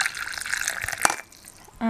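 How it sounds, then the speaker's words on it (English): Boiled water poured from a kettle onto leftover candle wax in a container gives a soft, steady trickle and splash, close and fairly quiet, thinning out toward the end before a brief voice breaks in. "I just have a kettle full of boiled water here, and I just pour some in to cover the wax."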